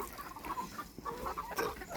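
Farm hens cluck and murmur close by in a steady, irregular stream of short calls over a quiet rural background.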